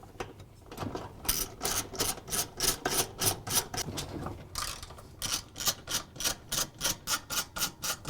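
A ratchet wrench loosens the half-inch gear case bolts on a Whirlpool washer, making rapid rhythmic clicking strokes close up, in two bursts with a short pause between them.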